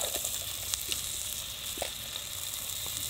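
Steady, crackling sizzle of food frying in hot oil, with small pops and bubbling throughout, fairly close and moderately loud.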